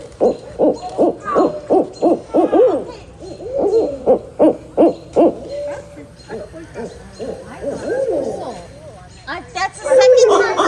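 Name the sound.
owl hooting at a campsite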